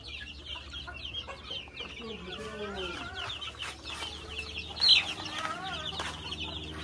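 Young chicks peep and cluck in a steady, busy chatter of short high calls, with one louder peep standing out near the end.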